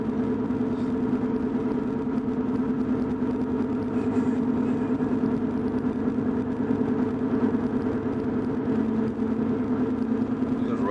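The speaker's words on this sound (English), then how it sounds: "Just riding in a pickup truck." Pickup truck engine running while riding on a Sunday morning drive in middle Tennessee, a steady low droning rumble heard continuously from inside the cab with no talking.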